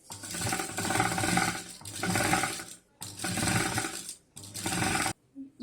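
A sewing machine stitches a zip onto fabric for a homemade multi-purpose organizer, running in four steady bursts of whirring with short pauses between them, close and fairly loud.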